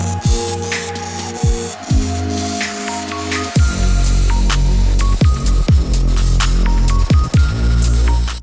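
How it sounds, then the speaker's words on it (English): Welding a support bar for the bottom plate of a homemade sheet metal brake, a steady loud buzzing hum interrupted by sharp clicks as arcs start and stop, several runs of crackling weld in a row. "we're just welding up the support bar for the bottom plate"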